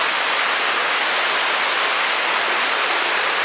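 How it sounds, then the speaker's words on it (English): A river flowing near an inn in Maggie Valley, North Carolina, heard as a steady, broadband rushing wash with no breaks, loud and continuous on its own without voices. "But you can hear that river."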